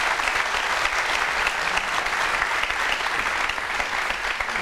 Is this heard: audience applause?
yes